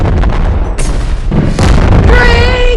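Loud booming gunshots go off in a video game, with several heavy blasts and a whistling, ringing tone toward the end, close and dominant throughout.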